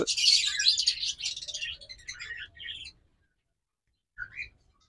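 A pair of pet birds offered for sale chirp and tweet rapidly and close by for about three seconds. After a pause, one brief final call follows.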